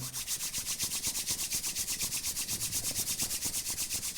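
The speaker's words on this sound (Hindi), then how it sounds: "दोनों हाथों को जोड़ें और जोर से रब करें।" Two hands rub hard against each other in quick, regular strokes, a close dry swishing that pulses evenly and never pauses, with no one talking.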